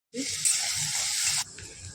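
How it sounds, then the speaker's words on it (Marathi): Chopped onion hits hot oil in a pan for paneer bhurji after cumin seeds, giving a loud bright sizzle that flares up at once, holds steady, then drops to a quieter crackle with faint stirring knocks underneath. "कांदा आपला लालसर परतला"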